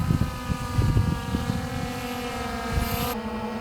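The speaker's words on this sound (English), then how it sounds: "Hear that landing gear go up." Landing gear retracting on a FireFLY6 VTOL drone, a faint mechanical whir under the steady hum of hovering rotors, with a short rising whine near the end.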